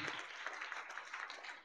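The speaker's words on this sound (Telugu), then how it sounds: "గట్టిగా క్లాప్స్ కొట్టండి." A group of children claps together at a school holiday event, a brief burst of rapid, fairly faint clapping heard at a distance.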